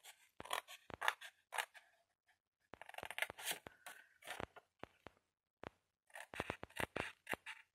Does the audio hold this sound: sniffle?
no